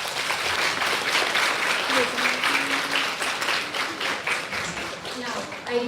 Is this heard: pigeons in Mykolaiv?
no